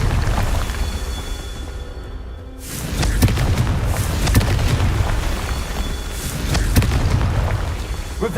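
A Confringo blasting spell going off in the video game Hogwarts Legacy, with loud booming blasts over a continuous rumble, one dip in the noise and then several more thuds that land close by.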